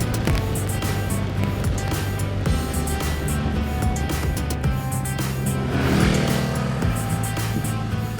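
Skydrive fuel-injected CVT scooter on the road, its engine a steady, even drone with smooth unchanging pitch and a slight swell near the end, heard up close while riding.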